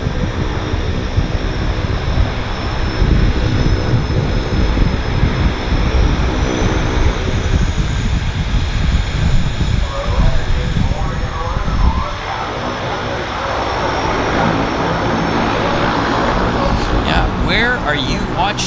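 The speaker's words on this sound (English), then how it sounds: "This is our beautiful Canada flag liveried Harbour Air Twin Otter" A Harbour Air de Havilland Twin Otter floatplane in Canada flag livery runs its propeller engines at Vancouver's downtown harbour, a loud continuous roar that shifts in tone partway through, with someone talking over it.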